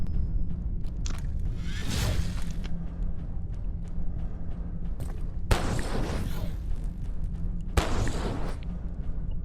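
Gunshots in the video game Abiotic Factor, three heavy booming blasts spaced a few seconds apart, each with a long rumbling tail, over a constant low game ambience.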